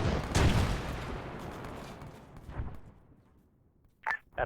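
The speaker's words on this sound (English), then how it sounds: "That's mortar." Mortar blasts sound in a military video game: a loud booming impact followed by a long rumbling decay, then a quieter thud, with short sharp electronic beeps near the end.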